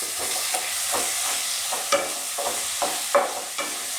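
Steady sizzling of chopped tomato and onion sautéing in a pan for chicken gravy, with soft repeated scraping and stirring strokes, close up and fairly loud, no voices.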